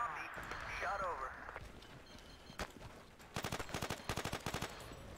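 Gunfire in the video game Battlefield 2 on the FuShe Pass map: a single sharp shot, then rapid bursts of automatic fire toward the end, following a stretch of game voice radio chatter.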